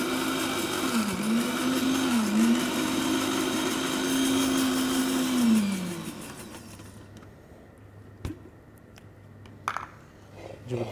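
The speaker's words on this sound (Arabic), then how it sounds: "اربع فص ثوم، اضرب بالخلاط." A blender whirs loudly and steadily as it blends garlic cloves, its motor pitch dipping and rising under load for about six seconds before cutting off, leaving a quiet kitchen with a few small clicks and knocks.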